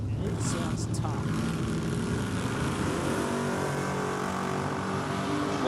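A Nissan Silvia drag car fitted with a rear parachute revs at a drag racing meet, a loud sustained engine roar with shifting pitch that fills the clip, and an announcer talks over it.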